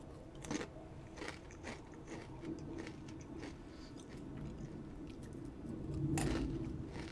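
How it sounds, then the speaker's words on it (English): Someone chewing crunchy snacks close to a microphone, with repeated crisp bites and crunches spaced irregularly over a quiet background, one louder burst near the end. "I'm enjoying snacks right now. Hopefully you can't hear me chewing."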